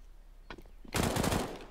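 In a university Counter-Strike match, a couple of faint shots are followed by a loud, rapid burst of automatic gunfire that fills the rest of the moment.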